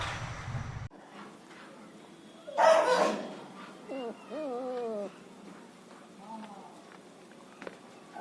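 A long-coated female German Shepherd puppy giving a few short, high yelping barks after a thump, close and fairly quiet with pauses between.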